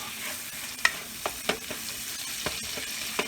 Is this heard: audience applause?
no